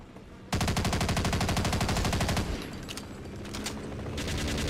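Gunfire rips out in Half-Life as an enemy is shot, a loud, rapid automatic burst of evenly spaced shots lasting about two seconds. Quieter scattered shots and clatter follow, with no talk.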